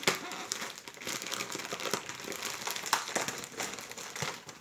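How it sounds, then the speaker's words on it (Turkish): Shipping parcel being opened by hand, with steady crinkling and crumpling of packaging plastic or paper and a few sharper tearing bursts, close and continuous with no speech. "Hemen kargomuzu açalım."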